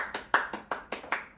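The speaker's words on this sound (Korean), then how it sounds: "그런 목사님들에서 박수 치겠습니다" A church congregation claps for pastors: six sharp, evenly spaced claps in unison, each with a short decay, in a quiet room.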